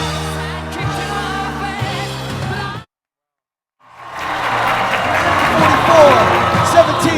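A crowd at the Orlando Regional robotics competition finals applauds and cheers the champions: a broad, sustained roar of clapping that swells after a brief silence, with music playing before the pause.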